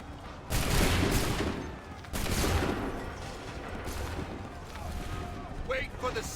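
A musket volley in Assassin's Creed 3 Remastered: a loud, rolling, sustained burst of massed gunfire that swells, dips and surges again, heavy and crackling, with battlefield noise running underneath.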